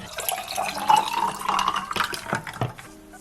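Water pours into a glass with a steady splashing fill that rises and fades over a few seconds, with no talking.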